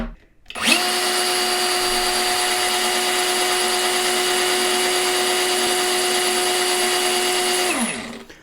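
A 20V Ingco cordless chainsaw with a 6 inch bar spins up sharply and holds a steady high-pitched electric whine at full speed for about seven seconds, then winds down. The sound is close and loud with no talk.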